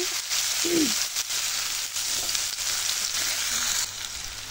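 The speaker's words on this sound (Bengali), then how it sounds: "এখন এই তেলের মধ্যে দিয়ে দিচ্ছি 1/2 কাপ পেঁয়াজ কুচি। এখন একটু নেড়ে চেড়ে দিচ্ছি।" Chopped onion, half a cup, frying in hot oil as it is stirred, giving a dense, continuous sizzle with a few soft scraping strokes, close and steady throughout, with no one talking.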